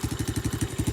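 A 125cc Xpro ATV engine runs at a steady idle, close and loud, with a rapid, even pulsing chug and some clattery rattle on top.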